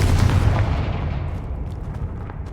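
Confringo blasting-spell explosions in Hogwarts Legacy, a loud booming burst up close that rumbles and decays slowly over a couple of seconds, with no talking.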